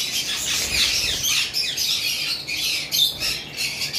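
Lovebirds squawk continuously, violet and lutino Fischer's pairs in a crowded aviary, with shrill overlapping calls and sharp chirps throughout, fairly close and loud.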